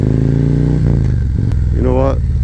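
A Harley motorcycle upgraded to stage two with a Screaming Eagle cam, its engine giving a steady, loud, low rumble throughout, with someone talking over it.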